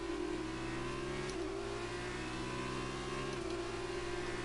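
An F2 race car engine in F1 2019 drones steadily at high revs, loud and close, with two brief dips in pitch where the tone drops and climbs again, as from shifts or lifts around the Shanghai track.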